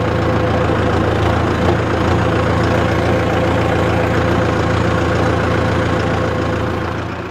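Mahindra Novo 605 DI PS 4WD tractor engine running steadily while the tractor turns in a tight space, a loud, continuous low diesel drone close by with no talk.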